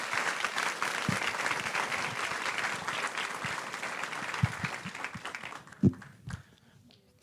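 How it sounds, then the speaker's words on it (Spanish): A church congregation applauds steadily, a dense sustained patter of many hands clapping together that carries on for several seconds, then thins into a few scattered claps before stopping. "dale ese fuerte ese aplauso a Dios."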